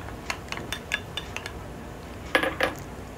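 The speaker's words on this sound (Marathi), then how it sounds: "यामध्ये मी फ्लावर घालून घेणार आहे." Cauliflower florets tumbling into a pan of oil-glossed spiced tomato masala, heard as a series of light metallic clinks and taps, then two sharper clatters near the end, with no voices.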